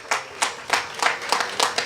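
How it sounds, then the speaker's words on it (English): A few people clapping at a housing programme launch, a sparse, uneven patter of individual claps that sounds close and light rather than like a big crowd. "I want you to give Mrs. Arita Simpson and her team a round of applause as well"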